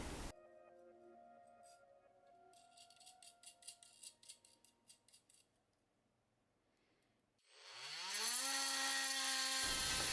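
A drill bores a series of holes for a servo mount on a Power Wheels being converted to an RC car. A motor whine rises loud and steady after a stretch of quieter tapping and clicks.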